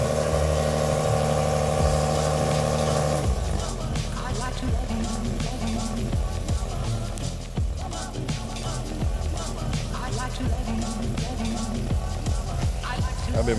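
A 2014 Nissan 370Z pulls in as its engine hums steadily beneath a busy wash of background noise and nearby voices, the mechanical sound grows fuller after the first few seconds.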